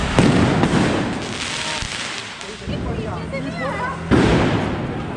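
Diwali firecrackers in Mumbai bursting in rapid, crackling volleys with loud bangs, hissing and whistling rockets, continuous and close, with people talking and calling out among the blasts.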